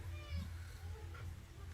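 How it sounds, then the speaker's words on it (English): Soft cat meows at close range, a few short calls over low background hum in a home during the animal's feeding time. "What are those meows?"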